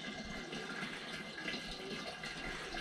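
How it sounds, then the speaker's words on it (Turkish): Diesel fuel pouring into a farm tractor's tank, a steady close liquid rush that runs continuously without a break. "Mazot dolduruyoruz ki."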